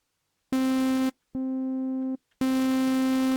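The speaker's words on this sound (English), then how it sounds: "so now I can hear that distortion." Three sustained buzzy synthesizer tones from Xfer Serum 2 with a distortion effect, bright and harmonically rich, separated by short silences; the middle one quieter.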